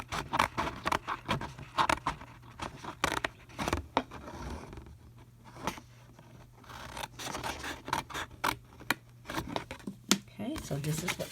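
Scissors cutting paper for a ribbon organizer, a rapid series of close, crisp snips and rustles in bursts, with short pauses and a faint low hum underneath.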